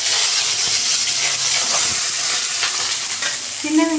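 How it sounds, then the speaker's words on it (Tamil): Cumin, cinnamon, cloves, fennel and cardamom frying in sesame oil, a loud continuous hissing sizzle with crackling pops and a short tonal squeak at the end. "நல்லெண்ணெய் ஊற்றி கொஞ்சம் சீரகம் போட்டு இந்த ரெண்டு பட்டை, கிராம்பு, சோம்பு போட்டுக்கலாம்"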